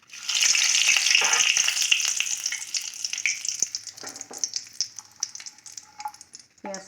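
Chili and bay leaf hit hot oil for tempering a duck egg curry with potato and cauliflower, producing a loud, bright sizzle that gradually settles into softer crackling, broken by light clicks from stirring.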